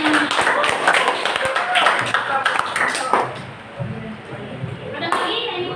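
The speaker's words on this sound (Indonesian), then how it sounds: "Oke, aplaus untuk teman-teman." Classmates clap for their peers in an Indonesian classroom lesson on biography texts, a scattered burst of hand claps under a teacher's voice that fades into quieter chatter.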